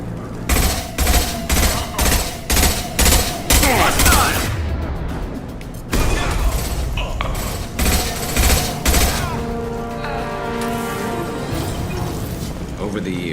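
Rapid bursts of gunfire from a Mass Effect 2 firefight with Blue Suns mercenaries, repeated rhythmic volleys in the first half and again later, with mechanical clanks and a voice talking in between.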